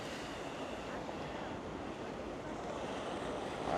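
Surf washes steadily onto Melasti Beach in Bali, a soft continuous roar mixed with wind noise on the microphone; it is faint and distant-sounding, with no clear voices.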